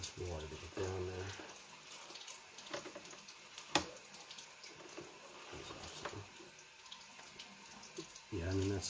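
Water runs down into a city sewer line at a house under inspection, a steady rushing flow with an occasional sharp knock. Low voices murmur in the background.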